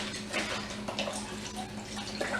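Chicken broth poured into a soup pot of cabbage soup, a soft continuous splashing and gurgling stream, faint and steady throughout.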